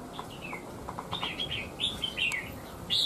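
Red-whiskered bulbul (chào mào) giving a series of bright, whistled chirps and short warbling phrases, moderately close and clear above a faint hiss, growing busier and louder toward the end.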